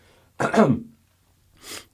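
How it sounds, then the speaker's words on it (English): A single throaty clearing of the throat, close and fairly loud, then a short breathy rasp a moment later. "I'm going to clear my throat"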